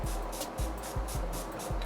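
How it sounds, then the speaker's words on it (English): Short bursts of LA Girl HD setting spray misted onto the face during a makeup routine, several quick pumps in an irregular rhythm, close and fairly quiet. "I'm just going to be spraying that in"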